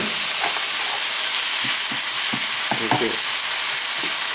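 Tomatoes simmering down into a gravy in a pan over medium-low heat, giving a steady bubbling sizzle with a few soft scrapes and clinks near the start; one brief spoken word.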